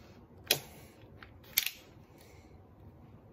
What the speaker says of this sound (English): I go ahead and drop the magazine out of it.